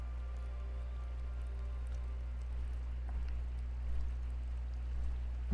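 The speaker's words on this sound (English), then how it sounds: "Let there be just like a little bit of rain." Light rain falls in the video game Ghost of Tsushima, a soft, even patter carried over a constant low hum, with no voices.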